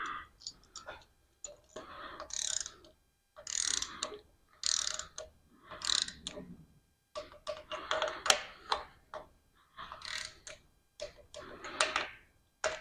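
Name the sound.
tightening engine rocker arms with a torque wrench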